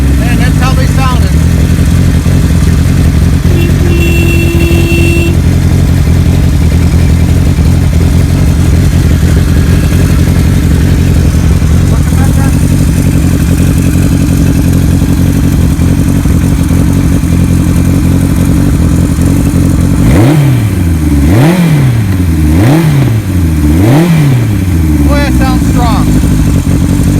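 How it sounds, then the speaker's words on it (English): Restored 1975 Kawasaki Z1 900 motorcycle engine running loud and close, a steady lumpy mid-pitched idle, then several quick throttle blips rising and falling near the end, with someone talking briefly over it. "Motor sounds good. Man, that's how they sounded."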